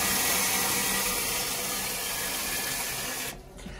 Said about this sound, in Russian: Слив воды через клапан.